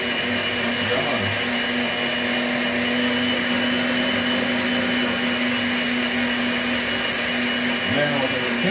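A kitchen blender purees scallion and onion in a steady, loud, continuous whir with a strong droning hum, running the whole time, with brief shifts in pitch as the blades churn the mix.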